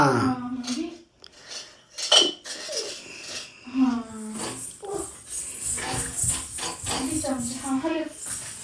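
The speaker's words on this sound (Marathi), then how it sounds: "हे हलव, चमच्याने हलव" Metal spoon scraping and clinking around a kadhai on a gas stove in irregular bursts, with people talking over it.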